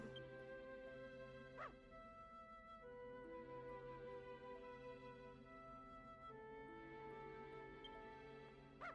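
Dog sounds from Dragon Quest Builders 2, with short yips and a whimper heard over steady looping game music at moderate level.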